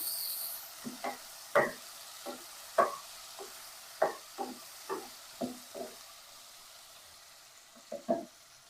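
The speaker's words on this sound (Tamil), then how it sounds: "பச்சை பட்டாணி, முந்திரி எல்லாத்தையும் லைட்டாக வதக்கிக்கலாம்." Beans, green chillies, green peas and cashews lightly sautéed in a pan make a soft sizzle punctuated by a regular series of close stirring knocks and scrapes, which pause briefly before a final couple of strokes.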